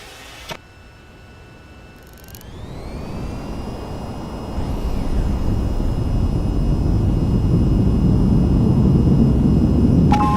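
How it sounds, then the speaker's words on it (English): A fighter jet in a flight simulator game spools up and rolls down the runway at full throttle, a steady engine whine climbing in pitch over a swelling roar that grows louder and fuller, with no voices. "raise the throttle to full and steer to keep aligned with the runway. Keep speeding up straight down the runway"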